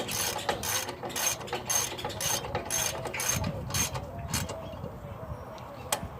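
A ratchet and socket tightening a bolt: quick bursts of close mechanical clicking repeat in a fairly even rhythm, then grow quieter and sparser, ending with a single sharp click, with no talking.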